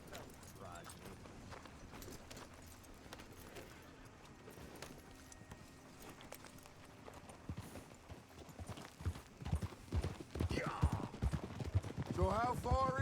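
Horse hooves clip-clopping in the Red Dead Redemption 2 video game, with faint rhythmic steps that grow louder and quicker toward the end, mixed with game sounds and voices talking.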